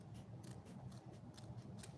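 Repeated snipping of scissors through a coarse, scratchy scouring pad, roughly five or six cuts at a steady pace, close up with a low hum underneath.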